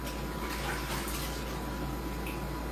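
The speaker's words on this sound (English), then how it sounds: "let me wash my hands." Steady running water from a tap as hands are washed, a continuous close rushing splash with no talking.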